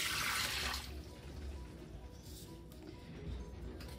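Water is poured into a Fagor connected cooker while making msemen dough. A short rushing splash comes first, then it settles into a quieter trickle and faint running water.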